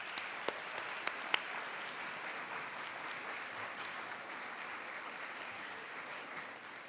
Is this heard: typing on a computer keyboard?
no